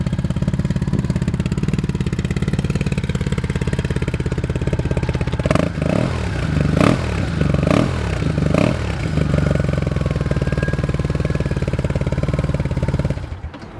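A 2001 BMW R1200C motorcycle idles steadily and loudly up close, a continuous throbbing engine drone with a few sharper revs or clatters in the middle before it cuts off near the end.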